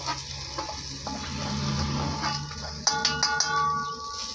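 Kanda poha with turmeric and salt being stirred in a pan with onion mixture, soft sizzling and scraping under light clinks of a spoon against the pan near the end.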